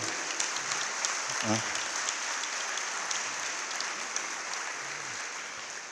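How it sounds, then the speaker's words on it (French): An audience claps steadily for a farm host at an organic farming gathering, a dense wash of many hands held at an even level for the whole stretch, with a brief voice breaking through midway. "je crois qu'on peut commencer par l'applaudir pour le remercier de nous recevoir"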